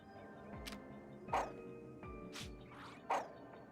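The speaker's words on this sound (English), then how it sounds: "That sounds like a dog." Faint small-dog yips and barks come from a creature in the video game Cozy Nest, a few short bright calls spaced apart over quiet background music.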